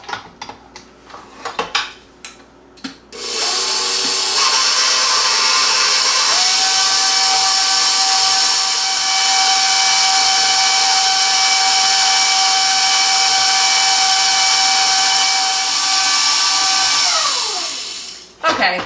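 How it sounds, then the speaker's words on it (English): A stand mixer runs on medium-low, kneading hot cross bun dough. After a few clinks and handling noises it starts up, ramps in steps to a steady whirring hum, then spins down near the end. "put this on the mixer and let it mix on medium-low for a few minutes"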